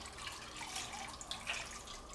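Homemade teriyaki sauce poured over asparagus in a pan on the stove gives a soft, steady liquid splashing and trickling, fairly quiet and continuous throughout.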